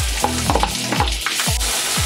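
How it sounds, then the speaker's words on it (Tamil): Onion frying in oil in a kadai, a steady sizzle under repeated low scraping strokes of a spoon stirring, close and fairly loud. "இந்த வெங்காயம் போட்டுக்கலாம்."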